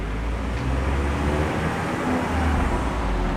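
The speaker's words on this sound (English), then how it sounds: "Gonna let two cars pass and then we'll move on." Cars pass along a road with a steady, loud rumble of engines and tires that swells and fades. No one speaks.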